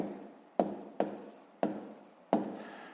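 Pen or pencil strokes on paper while a maths answer is written down, four or five short scratchy bursts in a quiet room, close and fairly soft.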